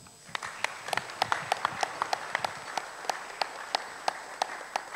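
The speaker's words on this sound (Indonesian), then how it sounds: "Mohon tepuk tangan." A sparse audience claps at an evening talk event in Yogyakarta, with sharp, evenly spaced individual claps repeating steadily for several seconds rather than a dense roar.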